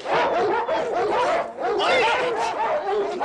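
A dog barks and whimpers in a Western TV episode, with a steady run of yips, whines and chattering barks close by, mixed with voices throughout.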